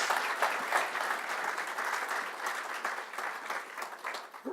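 Audience clapping for panelists at a 2015 business leaders awards event: a dense, continuous patter of many hands at moderate level, slightly uneven, fading a little near the close.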